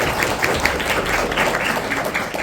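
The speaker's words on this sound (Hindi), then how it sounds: "जोरदार ताली से आपका स्वागत कीजिए।" An audience at an NSS camp closing ceremony at a school claps to welcome the chief guest, producing dense, steady applause that continues evenly throughout.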